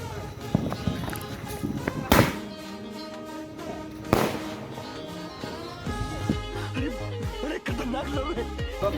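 Firecrackers go off during Diwali celebrations, two sharp loud bangs a couple of seconds apart over steady background noise and chatter, with people talking throughout.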